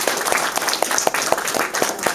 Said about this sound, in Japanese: もう一回あの大きな拍手をしていただいてよろしいでしょうか。